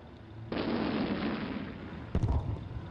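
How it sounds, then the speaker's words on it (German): A Katyusha rocket salvo in the Sudden Strike strategy game erupts as a sustained roaring rush of launches, followed by a sharper burst of impacts near the end, loud and close with no talk. "Eine letzte Salve."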